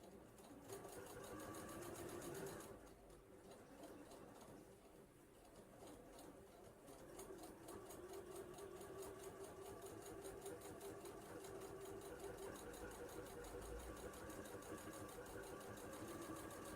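A sewing machine stitches quilt squares together, a steady fast mechanical whirring hum that runs continuously with only a slight dip in pace partway through, near and without talk.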